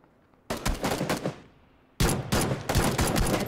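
Two bursts of close, loud rifle fire in PUBG Battlegrounds, a few rapid shots cracking out, then a pause before a second, sharper volley.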